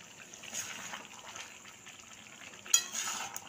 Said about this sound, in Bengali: এবার আস্তে করে এরকম সুন্দর করে মিশিয়ে নেবো